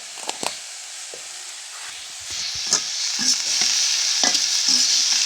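Leafy greens (shak) cooking in a pan with a little salt, a soft sizzle under repeated spoon scrapes and stirring clinks close by, with no talking.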